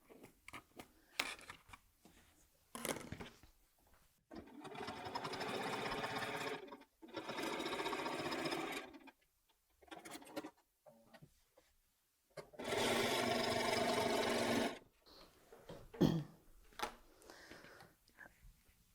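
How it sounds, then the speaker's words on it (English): Sewing machine stitching a diagonal line across quilt fabric for an Easter basket, running in several steady bursts of a few seconds each, separated by pauses with small handling clicks and fabric rustle. "I'm going to sew that on the sewing machine."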